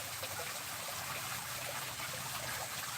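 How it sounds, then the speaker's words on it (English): Pumped water trickles and splashes steadily down into a backyard koi pond, a continuous close, bright wash of falling water with no talking. "The water gets pumped up here, which comes down into here."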